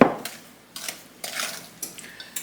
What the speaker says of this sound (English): So now, I'm going to mix this together